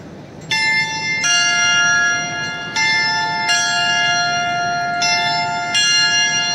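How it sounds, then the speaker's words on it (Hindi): A large train station's bell in Taiwan rings out in repeated clear, resonant strikes with long sustained tones overlapping, several chimes spaced about a second apart. "ये देखिए, इसकी घंटी भी बजने लगी है"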